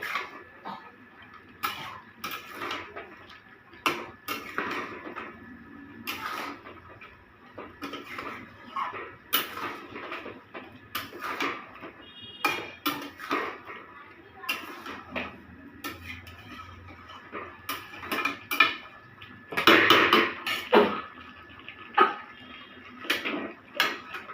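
Chicken with spices, including coriander powder, stirred and fried in a pan for hariyali chicken, with irregular clinks and scrapes of a utensil against the pan over a steady low background, close by and continuing throughout.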